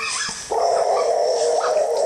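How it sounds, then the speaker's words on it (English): Several dogs bark, yip and whimper in a backyard, a continuous high-pitched agitated chorus that grows louder partway through. "these dogs are evil, man."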